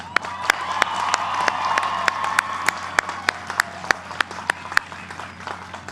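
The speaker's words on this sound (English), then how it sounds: "Another round of applause." Crowd applause at the UMass Dartmouth Class of 2022 commencement ceremony, a broad sustained ovation with cheering, thinning into a few distinct, sharp individual claps toward the end.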